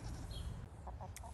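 Hens in a barn during molt season clucking in short, soft bursts over a steady low rumble, fairly close but not loud, with no talking.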